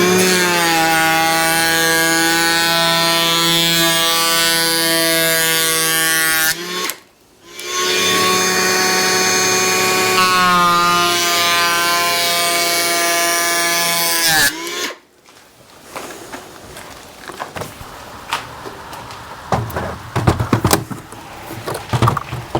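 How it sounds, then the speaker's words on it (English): A small electric planer trims the head of a wooden window frame during a stone barn renovation, whining loudly in two long close passes with a brief break between them, then rough scraping and clatter as it winds down. "I'm going to take that off with a little planer"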